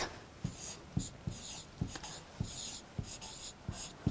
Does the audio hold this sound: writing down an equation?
yes